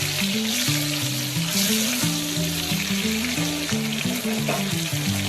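Brinjal frying in a pan for biryani gravy: a steady, close sizzle runs throughout, with music playing over it and no talking.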